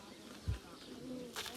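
American pigeons give a single soft, low coo at close range, faint against quiet background noise.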